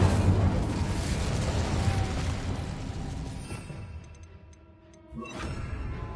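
Incendio fire spell cast in Hogwarts Legacy, a loud fiery burst with roaring rush that fades over several seconds before a fresh whoosh flares near the end.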